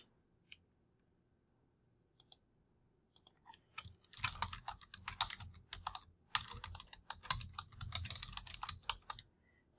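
Computer keyboard typing in an office setting: a few isolated key taps, then bursts of rapid, close clicking with brief pauses, fairly quiet and with no voices.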